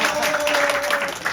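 Church congregation applauding in a sanctuary, a short, steady patter of many hands with a faint sustained tone running underneath.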